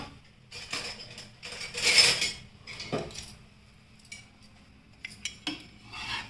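A vegetable puff being flipped and turned on a hot griddle pan, with a few metallic scrapes and clinks of a spatula against the pan, close and fairly loud, with quieter gaps between.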